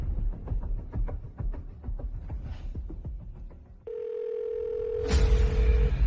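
A phone call rings out unanswered, a steady sustained ringback tone that starts partway through after a stretch of quieter rhythmic background sounds, then continues until near the end.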